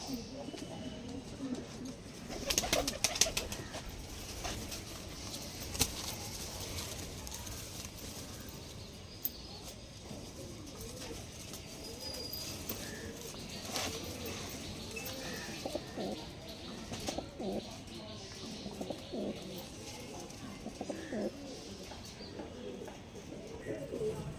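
Andra pigeons coo softly in a loft, repeated low throaty calls close by, with someone speaking in the background.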